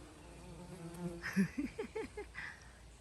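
A bee buzzes among cucumber flowers in a garden, a soft close drone that swells into several short wavering pulses as it moves around the blossoms, faint against quiet outdoor background.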